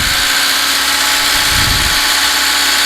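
A Moskvich 2141 car engine runs at a steady idle, a loud, close, continuous rumbling hum with no voices.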